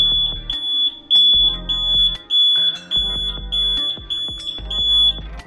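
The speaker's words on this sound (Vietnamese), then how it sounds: "còi của mình đã báo động" A DH48J-8 digital counter module's alarm buzzer sounds loud and close, a shrill high-pitched beeping repeated in rapid pulses, over a louder irregular rhythmic thumping backdrop with no talking.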